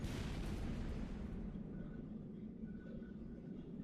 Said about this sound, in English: Massive explosions.